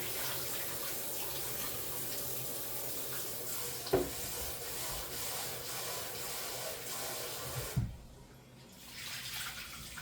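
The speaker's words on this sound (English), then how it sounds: "I'm going to rinse it out real quick and get rid of all that water." Tap water runs steadily into a sink while black-eyed peas are rinsed and drained, a soft continuous hiss with two brief clunks, then a short quieter pause near the end.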